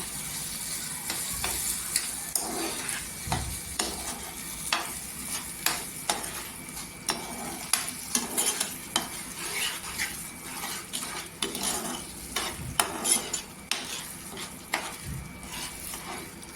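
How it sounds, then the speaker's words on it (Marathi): Sugar stirred into semolina sheera cooking in ghee in a pan, a soft steady sizzle under repeated scraping and tapping of a spoon against the pan. "इथे साखर टाकला एक वाटी मिक्स करून घ्या"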